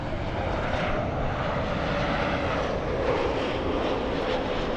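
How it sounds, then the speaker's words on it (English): A Delta airliner bound for Orlando, Florida, drones with a continuous, even engine roar at steady loudness throughout, with no voices over it. "Delta 867, this one flying to Orlando, Florida."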